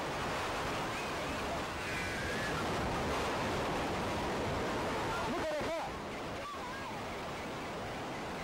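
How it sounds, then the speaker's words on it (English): Ocean waves surge onto a beach on Penang Island, a loud continuous roar of rushing water and surf that fills the scene, with faint voices briefly audible partway through. "The waves sweeping in captured on their video."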